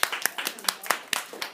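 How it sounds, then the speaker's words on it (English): Scattered clapping from a small classroom audience follows a persuasive speech, a loose, uneven run of individual claps at close range rather than a full crowd roar. "Let's give a round of applause."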